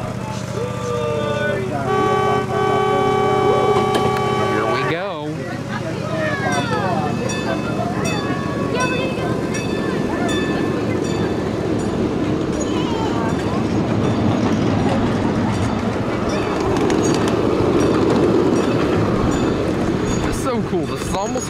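A miniature train ride at the Exporail railway museum in Saint-Cons produces a steady rumble and rattle of small rail cars, clacking over the track with squealing wheels and tones early on; a voice talks over it.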